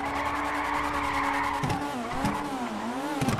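Car tires skid and squeal continuously in GTA RP, a sustained whining screech over a steady engine drone, with pitch dipping and rising as the drift continues.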